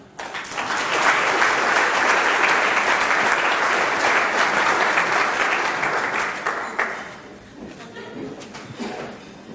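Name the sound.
applause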